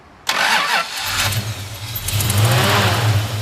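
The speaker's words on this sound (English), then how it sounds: "Typical Mopar, got that little whining starter sound. Fires right up though." A 1969 Dodge Dart GTS cranks over with a whining starter, catches within a second and settles into a loud, lumpy idle with a rising throb, close by and without talk.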